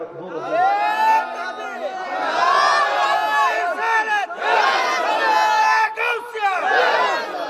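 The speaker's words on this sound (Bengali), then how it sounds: "এবার একটা জোরে তাকবীর দেন" A large crowd at a Bangla religious zikr gathering shouts the takbir loudly in unison, several sustained roaring chants in a row, close and full, with brief pauses between.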